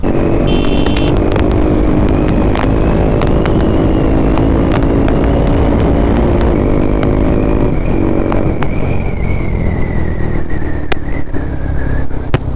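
A KTM RC 390 rides alongside an Aprilia RS 457 on a foggy weekend road ride in Hyderabad, giving a loud, constant engine drone with shifting pitch as the throttle changes, heard close up with heavy wind rush.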